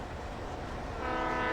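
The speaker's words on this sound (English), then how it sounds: "That was the train." A train rolls past in the video game Alan Wake, a dense steady rumble that swells louder toward the end as a horn tone sounds, with no talk over it.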